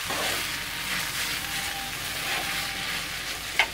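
Vegetable chow mein noodles with sauce and spices being stirred and tossed in a hot pan, sizzling steadily up close with a soft scrape near the end.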